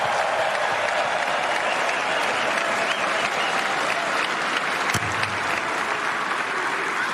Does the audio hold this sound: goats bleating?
no